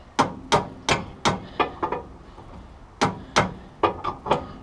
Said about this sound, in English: I'm going to grab my hammer here and we're going to see how well, how close we are to getting this guy right